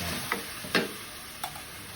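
Food being sautéed in a pan for caldereta, a faint low sizzle under a few sharp stirring clicks of a utensil against the pan.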